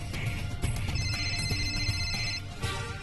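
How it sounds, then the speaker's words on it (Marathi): An indoor phone rings for about two seconds, a trilling electronic tone over a low background murmur, then stops. "फोन वाजते ते बघ आधी."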